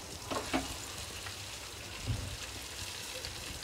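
Small Indian gooseberries (amla) fry in hot oil with a steady, fine crackling sizzle, broken by a couple of brief louder pops and stirring sounds near the pan; no one speaks.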